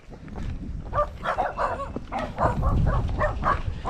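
Several dogs on a mountain trail at Mt. Gulod in Tanay, Rizal, barking in a quick run of yaps and woofs at middle distance over a rustling, rumbling background.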